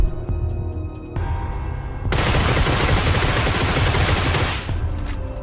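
Groza rifle in the video game BGMI emptying a full magazine: a dense, unbroken burst of rapid automatic fire lasting about two and a half seconds, loud and close, preceded by a few lighter sounds.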